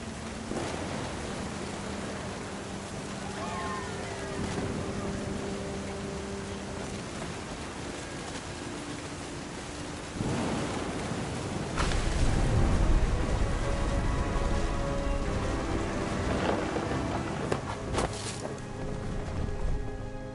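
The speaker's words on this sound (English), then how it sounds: "The thunder sounded much too close and full of angry power." Steady rain hisses through a video game storm in What Remains of Edith Finch, with a heavy rumble of thunder swelling near the middle and rolling on under the downpour. No one speaks.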